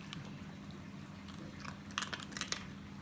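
A dog crunching treats, a soft run of chewing and crunch clicks that grows louder in small bursts toward the end.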